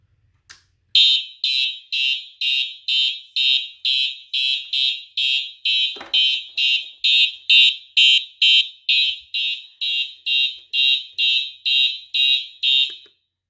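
A white 4903 fire alarm horn-strobe sounds during a system test, blaring a rapid series of about twenty evenly spaced loud pulses after a brief click.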